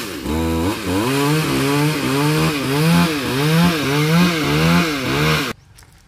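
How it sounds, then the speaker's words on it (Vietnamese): A chainsaw cuts and trims a branch from a large Sao tree, its engine droning loudly and steadily with rhythmic revving surges for about five seconds before cutting out abruptly into near silence. "Bà cô Hoa cũng đã cưa mé nhánh cây sao này rồi"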